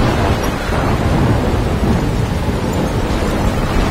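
In Life is Strange, a thunderstorm rages as a loud, unbroken wash of rain and rumbling thunder with no voices.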